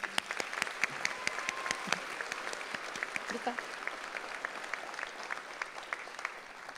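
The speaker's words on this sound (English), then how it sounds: "Another round of applause." Steady applause for graduates at a health professions graduation ceremony, moderately quiet and evenly sustained, with individual claps standing out and faint voices underneath.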